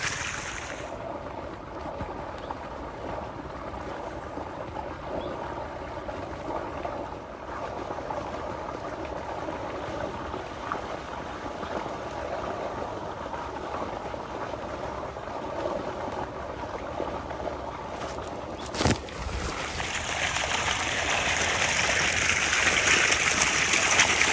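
Water gushes steadily from a borewell in a farm field, a continuous rushing wash that swells louder near the end.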